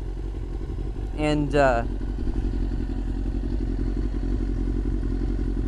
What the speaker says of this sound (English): there's a clutch working.